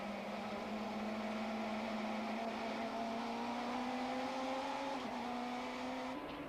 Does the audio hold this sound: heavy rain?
no